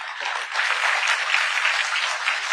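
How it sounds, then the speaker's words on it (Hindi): Audience at the WITT 2025 conclave breaking into applause: a thick, continuous patter of many hands, steady and fairly loud for the whole stretch. "इस बात पर जोर से तालियां होनी चाहिए"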